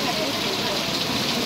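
Heavy monsoon rain pouring steadily in the Konkan region, a dense, even hiss with no pauses across the short stretch, loud and close.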